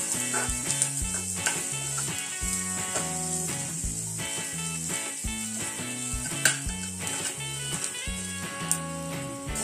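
Jackfruit vegetable sautéing in oil for a traditional Konkani dish gives a steady, soft sizzle with occasional stirring clinks, running under quiet, rhythmic background music.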